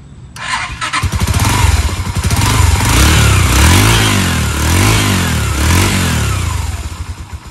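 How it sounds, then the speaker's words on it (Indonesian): A 2016 Kaisar Ruby 250 motorcycle starts, then idles through its standard exhaust with a deep burble and revs up and down in repeated swells, loud and close. "Seperti inilah suara knalpot standar motor Kaisar Ruby."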